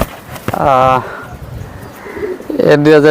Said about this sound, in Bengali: এ হচ্ছে একটা মাদি কবুতর ব্রিডার